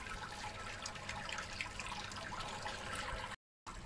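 Sparge water recirculating through a pump during a home beer brew day, a steady trickling, splashing wash of liquid that runs continuously at moderate level before cutting out briefly near the end.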